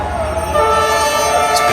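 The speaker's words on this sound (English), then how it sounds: "Finally, the train arrives and passes by a few inches away from you." A train passing a few inches from a crowd of spectators in Vietnam: a loud, sustained rumble with a droning horn-like tone building as it draws near, steady and close, with faint crowd noise.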